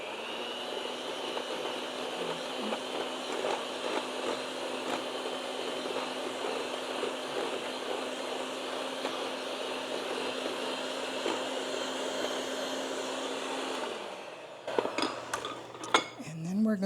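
Eggs being mixed into almond biscotti batter, with a steady mechanical whir of a mixer running throughout, then stopping near the end followed by a few clinks and knocks.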